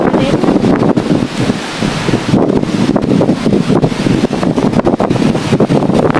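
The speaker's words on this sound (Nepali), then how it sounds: "यो हावाले कसो घर छाना उडाइदिनु भयो" Strong wind roars steadily into the microphone, a loud continuous buffeting rush with gusty surges throughout.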